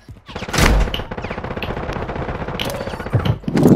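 Rapid automatic gunfire in the Call of Duty Warzone video game, a loud sustained burst of close shots in quick rhythm, with a few sharper blasts near the end.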